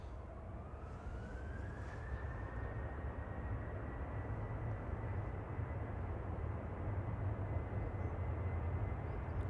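A Ryanair Boeing 737-800 departing Manchester for Malaga gives a steady, distant jet roar with a rising whine early on, fairly faint and continuous, with no voices.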